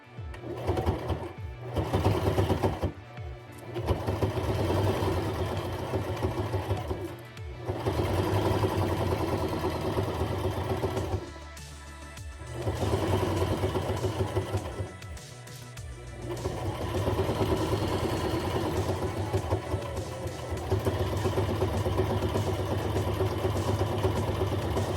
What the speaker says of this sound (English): you're going to be sewing right along the edge of the fold